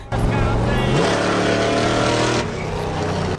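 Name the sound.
car engine sound in a reaction video clip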